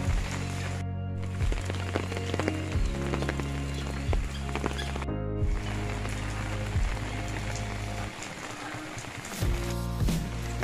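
Rain falls steadily outdoors on a Philippine homestead, a dense patter of drops striking surfaces, with scattered louder splats and low rumbling underneath.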